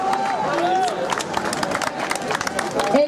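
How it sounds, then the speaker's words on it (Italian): A crowd applauds at a carnival gathering in Lecco after the parade, with brisk clapping mixed into a busy hubbub of voices and cheers as someone speaks over it. "Applauso!"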